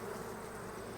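Honey bees buzzing around an opened hive during an apiary hive check, a steady dense drone close by with no talk over it.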